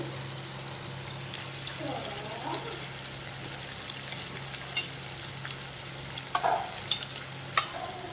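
Chicken pieces fry in a pan for a palak chicken curry, giving a quiet, continuous sizzle with occasional stirring scrapes and clinks growing more frequent toward the end.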